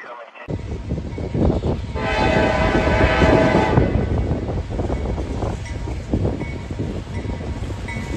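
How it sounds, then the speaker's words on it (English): A northbound CSX mixed manifest freight train passes with an SD40 locomotive, its horn blaring briefly over a loud rumble of rolling cars and wheel noise close by. "got a northbound CSX here. It's like a mixed, it's like mixed manifest."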